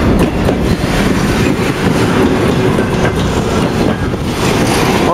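Freight train wagons loaded with containers roll past close by in a steady, loud rumble with rhythmic clacking of wheels over rail joints.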